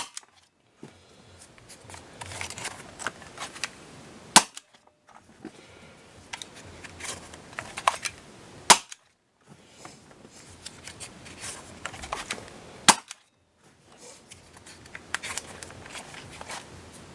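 Umarex Rekt OpSix CO2-powered Nerf pistol firing darts in four separate bursts, each a sharp pop with a rattling, clicking tail, some darts losing their tips, set apart by brief silences.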